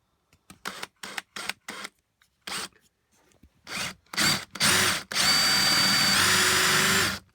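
An electric drill with a chuck fires in short, close, loud bursts of whirring, then runs longer as it bores holes in wood, ending in a sustained loud whine with a falling pitch; no talking.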